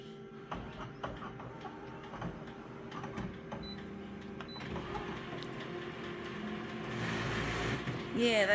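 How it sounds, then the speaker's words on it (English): A laser printer's pickup rollers in tray 1 give off a steady mechanical hum and rattle that swells louder toward the end, with faint talk mixed in. "that horrible vibrating noise you hear, I think that's the pickup rollers in tray 1"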